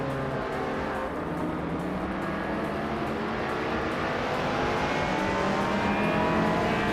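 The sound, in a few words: race cars launching off the start line, racing video game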